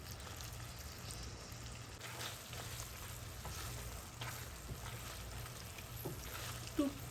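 Fresh chhana for sondesh worked by hand in a bowl, making a soft, continuous squishing and stirring texture at close range with faint background noise and no speech.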